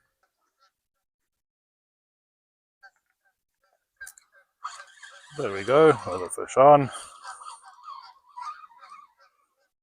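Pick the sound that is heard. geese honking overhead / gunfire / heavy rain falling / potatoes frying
geese honking overhead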